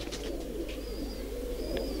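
A green-eyed show pigeon gives soft, low cooing over a steady hum, with a few faint higher chirps from other birds nearby.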